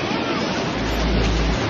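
Steady, full wash of ocean surf at a beach in Honolulu on Oahu, Hawaii, with a low rumble of wind buffeting the microphone partway through.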